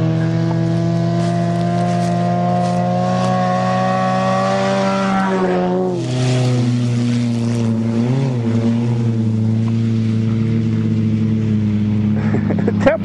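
Honda and Topaz vehicles racing in a cornfield give off loud, sustained engine tones that waver and shift in pitch as throttle changes, with a dip and wobble midway and an unbroken drone continuing to the end.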